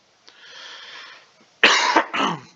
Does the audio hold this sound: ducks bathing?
no